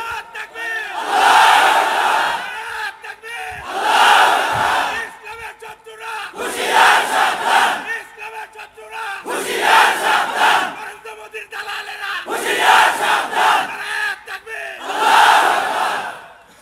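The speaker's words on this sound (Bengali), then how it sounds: "জোরে একটা তাকবীর দেন, বলেন আল্লাহু আকবার।" A large crowd loudly chants the takbir, Allahu Akbar, in repeated rhythmic bursts about every two to three seconds, with short pauses between each roaring call at a religious gathering.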